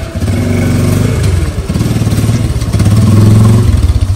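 A motorcycle engine idles and revs close by, a loud, steady, throbbing putter with a brief dip and a rise in speed.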